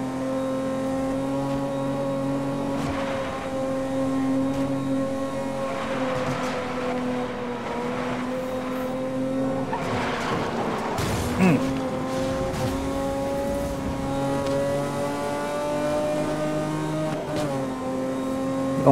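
Engine of a car in Need for Speed: Most Wanted holding a high, steady whine as it strains under acceleration, with slight pitch shifts near gear changes and a burst of rumble midway, while a voice talks over it.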